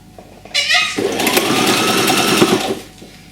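A domestic sewing machine stitches three aligned fabric layers for a baby's harem trousers, running in one loud, steady mechanical whir for about two seconds after a brief handling noise, then stopping.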